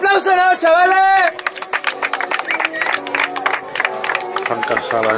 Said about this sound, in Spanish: ¡Le damos un aplauso, ¿no, chavales?